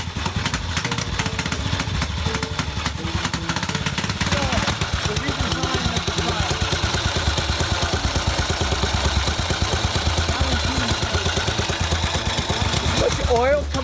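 An old motorcycle engine fires after a kick start and runs with a loud, rapid, steady chugging beat, close by, throughout the whole stretch, with a voice briefly heard over it.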